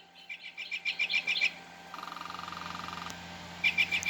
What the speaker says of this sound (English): Northern flicker.